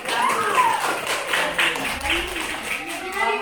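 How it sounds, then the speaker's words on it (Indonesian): Classroom applause from a group of sixth-grade children, a short burst of scattered clapping, fairly close, mixed with children's voices and a teacher talking. "silakan tepuk tangan dong untuk jambu"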